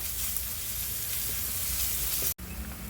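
Crushed garlic, ginger and green chili sauté in a hot pan with a steady, close sizzling hiss and light stirring scrapes, broken by one brief cut near the end.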